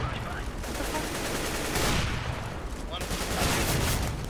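Dense, continuous gunfire in a tactical shooter game with flashbangs and molotovs, bursts overlapping with a few louder cracks near the middle and end, over busy game noise.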